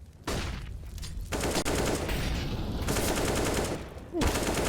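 Automatic rifle fire in a CS:GO match comes in rapid, loud bursts that start and stop across the moment, with a commentator's voice under the shots.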